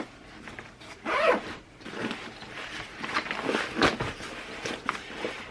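The zipper on a side zip pouch of a bag is pulled several times, giving near, rasping zip strokes of varying length separated by brief pauses and faint handling noise.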